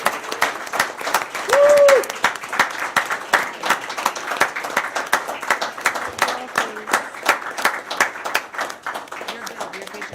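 A school board meeting audience applauds the girls volleyball team, state runners-up: steady, dense clapping from a roomful of people that holds throughout, with a brief tonal blip partway through.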